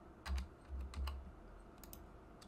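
A computer keyboard being typed on, a few quick soft key clicks in short bursts, faint and close, with a low hum underneath and no talking.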